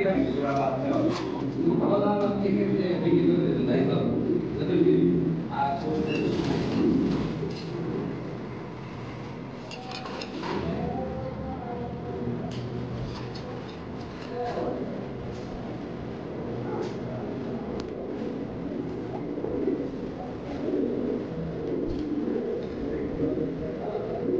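Lahori Sirazi pigeons at a pigeon farm cooing repeatedly in soft low murmurs, heard close under a man's ongoing speech.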